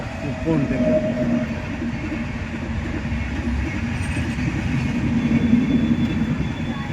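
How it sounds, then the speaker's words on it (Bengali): A train runs through the Jorai railway level crossing with a continuous close, heavy rumble and rattling wagons, and voices can be heard under the noise. "জোড়াই রেলগেটে ট্রেন ঢুকে পড়লো"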